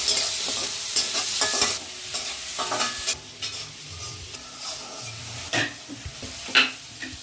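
Egg curry for egg fried rice sizzles in a pan while a utensil stirs and scrapes against it, producing irregular clinks and scraping strokes over a steady frying hiss.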